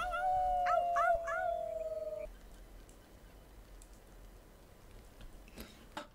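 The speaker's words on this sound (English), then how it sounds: "there's a wolf coming" A wolf howls in the video game Life is Strange 2, giving a long, wavering tonal howl for about two seconds, followed by quiet ambience with faint scattered sounds.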